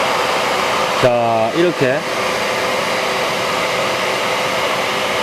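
A 1600W wet-dry vacuum cleaner fitted with a cyclone dust collector sucks up debris in a workshop, giving a loud, steady whooshing roar that runs the whole time, with someone speaking briefly over it.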